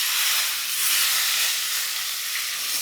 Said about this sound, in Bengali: এইগুলোকে বেশ কড়া করে এটাকে ভাজবো